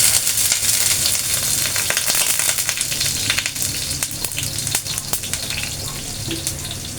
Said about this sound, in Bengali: তেল গরম হয়ে গেছে, এখন পেঁয়াজটা দিয়ে দিচ্ছি।